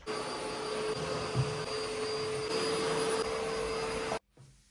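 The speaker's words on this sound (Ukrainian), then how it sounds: "В кінці найприємніше тепер треба всюди пропилососити." A cordless vacuum cleaner with a mop attachment runs steadily with a constant whine and broadband roar, then cuts off abruptly near the end, leaving brief quiet handling noise.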